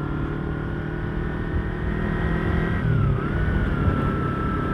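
A car drives through traffic with a steady engine drone and road rumble heard from inside, joined by a faint tonal whine that dips midway, continuous and fairly loud with no talking.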